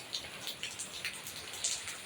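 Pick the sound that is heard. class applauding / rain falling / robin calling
rain falling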